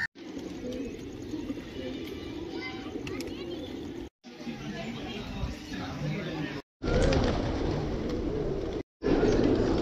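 Pigeons gathered in front of a temple coo in a steady, busy murmur mixed with children's voices and other chatter, the sound cutting out briefly a few times.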